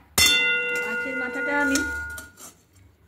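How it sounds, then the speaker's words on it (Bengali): A metal spatula strikes a wok in a home kitchen where fish has just been fried, giving one sharp, close metallic clang that rings on briefly while someone talks over it. "কড়াইটা কি জোর শব্দ হয়ে গেল, ঠুকে গেল খুন্তিটা"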